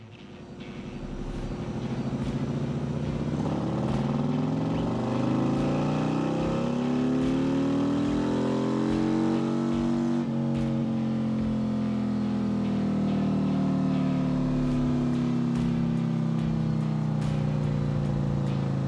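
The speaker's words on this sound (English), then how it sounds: "So it's time to fire it up, do a after power pull, see what kind of power numbers we get." A Harley touring motorcycle fitted with a Kodlin air cleaner, engine revving up through a dyno power pull, a steady loud drone that climbs in pitch and then holds at high revs.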